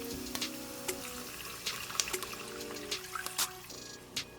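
A cup and a half of water poured into a cooking pot, a soft trickling and splashing stream with small irregular bursts, quiet and close, alongside faint kitchen background tones.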